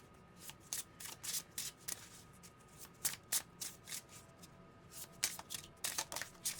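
An oracle card deck being shuffled by hand during a tarot reading, a steady run of crisp riffling bursts and soft card slaps, close and clear with no talking.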